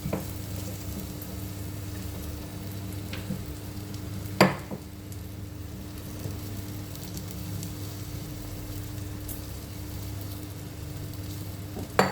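Moth beans being sautéed in a pan for a thin Maharashtrian curry, a soft continuous sizzle with a low steady hum beneath and a couple of sharp spoon knocks against the pan.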